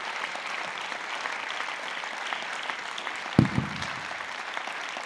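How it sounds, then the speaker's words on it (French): Warm, sustained applause from a seated audience at an anniversary pitch session of the Institut Européen d'Ecologie, dense steady clapping filling the room throughout with one brief thump partway through, no voices over it. "je voudrais vous proposer déjà qu'on vous applaudisse encore une fois tous les 10 très chaleureusement"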